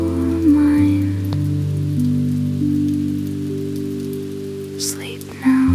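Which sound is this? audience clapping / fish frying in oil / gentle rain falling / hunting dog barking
gentle rain falling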